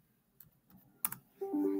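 A few scattered keystrokes on a computer keyboard while working in a spreadsheet, faint and sparse, followed by a brief louder click and a steady tone at the end.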